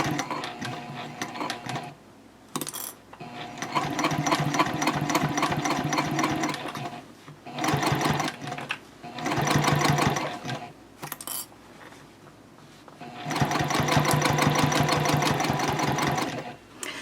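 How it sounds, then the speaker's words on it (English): A sewing machine stitches around the lining of a bowler hat in several steady, close bursts of rapid whirring, separated by short pauses with no talk. "you'll just keep sewing around in this manner"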